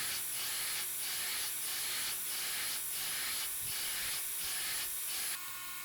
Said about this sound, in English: So now I switched over to the slack belt and I'm grinding in the edges of the hammer.